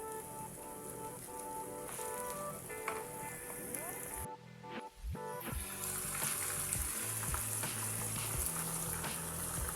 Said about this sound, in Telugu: మనం క్లీన్ చేసుకున్న చికెన్ కూడా అందులో వేసుకొని ఇప్పుడు దీనంతా ఒకసారి కలగట్టేసుకుందాం